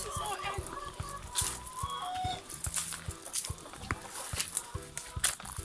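Laying hens on a country property in St. Ann, Jamaica, clucking and calling steadily nearby in a busy flock, with a voice speaking now and then.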